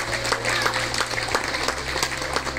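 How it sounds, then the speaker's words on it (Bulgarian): Wedding guests clapping for the newlyweds, a dense, steady patter of many hands over a low background hum. "Още веднъж аплодисменти за младоженците"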